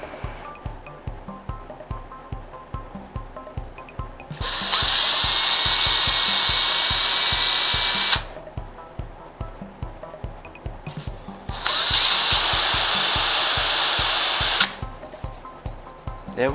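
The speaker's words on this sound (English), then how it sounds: "drill the holes" A power drill whines loudly in two long bursts of several seconds each, drilling holes for a headphone bracket, separated by a steady rhythmic mechanical chugging in the background.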